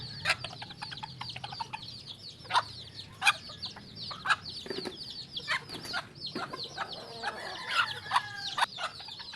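Pet chickens cluck and chatter nearby in short, overlapping calls, alongside a few louder squawks and some faint wing flapping, with pet ducks also kept there.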